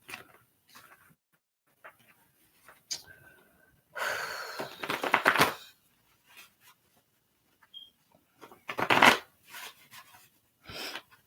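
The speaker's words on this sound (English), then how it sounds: "So I do have a shuffling process." A deck of cards shuffled by hand in two main bursts of riffling and rustling, close and moderately loud, separated by quieter gaps with faint breathing and small handling noises.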